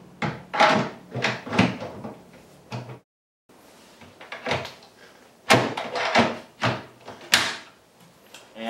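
Close-up knocks and thuds as a shaker-style media cabinet door swings shut on soft-close Euro hinges, several separate bumps with short pauses, quiet room with no talking.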